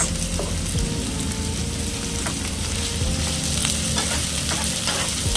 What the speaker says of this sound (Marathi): थोडंसं फ्राय करून घेऊयात